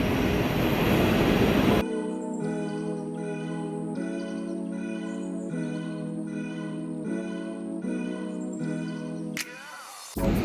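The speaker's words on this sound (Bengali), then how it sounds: "মাত্র পৌঁছাইছে একটা ট্রেন" Train at Hamburg Central Station, Germany: a broad rush of rolling noise gives way to a steady mechanical drone with evenly repeating pulses and a sustained tonal hum inside the busy station hall, no talk.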